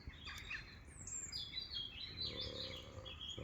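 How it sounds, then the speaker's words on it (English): Birds calling in Scottish woodland at dusk beside a campfire, with crows expected; chirps and calls come from mid-distance over a steady low rumble of ambience, with no clear harsh caw standing out. "The crows."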